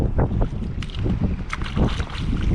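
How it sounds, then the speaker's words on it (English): Strong gusting wind on a coastal shore buffets the microphone with a loud, continuous low rumble, close and dominant throughout. "That wind's really come up now"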